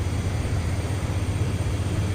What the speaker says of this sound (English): Takes these engines a little bit to react. It's a pretty big engine.